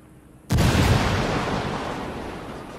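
A frag grenade explodes in Ghost Recon Wildlands: one sudden, loud blast followed by a long rumbling decay, with no talking.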